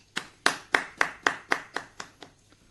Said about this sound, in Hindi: एक बार जोरदार तालियों से उनका स्वागत, आदरणीय श्रीमती चेतना शर्मा जी।